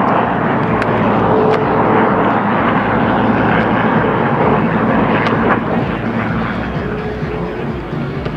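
A continuous loud roar from aircraft flying over an air show at Miami Beach, Florida, steady and broad throughout with wind buffeting on the microphone, slowly easing near the end.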